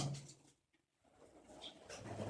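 A pigeon from a Punjabi flying-pigeon loft coos in low, murmuring phrases that fade to a brief silence near the middle, then resume with rustling around it.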